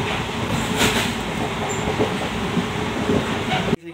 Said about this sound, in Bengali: এরকম অন্ধকারচ্ছন্ন কুয়াশা ভেদ করিয়া ট্রেন যার আসাম